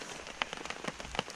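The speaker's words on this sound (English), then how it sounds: "now the rain is dripping off right here" Rain dripping off the lowered corner of a tarp at a wilderness camp along the Inside Passage, soft scattered drops tapping over a faint steady patter of rainfall, close and quiet.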